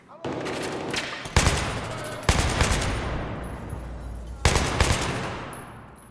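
Automatic weapons fire in bursts during Battlefield 3 combat in Paris, three sharp, loud volleys with rattling decays between them, no voices over them.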